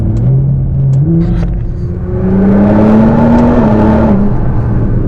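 A Nissan GT-R with a twin-turbo V6 making over 600 wheel horsepower accelerates hard, its loud engine drone rising steadily in pitch as heard from inside the car.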